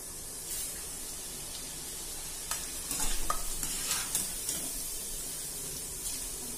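Thick poha frying and being stirred in hot oil, a steady soft sizzle with scraping stir strokes clustering in the middle, fairly quiet and close, no voices.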